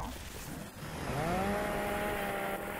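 A chainsaw attack in the video game Gears of War 3 revs up and holds a loud rising whine over a noisy multiplayer match, with faint voices in the background.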